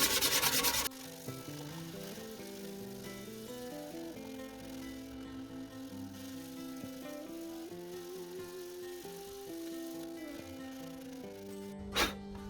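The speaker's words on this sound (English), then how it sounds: "we'll get a bit of sandpaper and just give it a bit of a smoother clean" Sandpaper of 320 grit rubs over a repaired Suzuki Let's 4 scooter mudguard, a steady close scratching hiss that runs almost the whole time after a louder burst at the start, with a brief sharp accent near the end.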